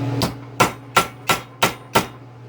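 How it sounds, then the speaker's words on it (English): Six evenly spaced hammer blows ring out on metal as camping wood stove parts are fitted tight over a flange, sharp and close, each strike followed by a brief decay over a faint hum. "Just going to hammer them together a little bit."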